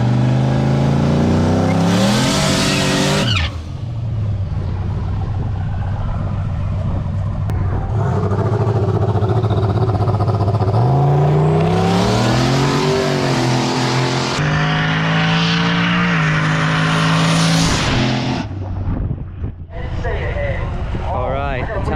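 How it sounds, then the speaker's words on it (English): Twin-turbo truck on a drag strip test run, its engine roaring loudly as it launches and accelerates, with rising and falling revs, turbo whine and shifts over crowd and track noise, while people talk in the background. "we're getting ready to run the twin turbo truck"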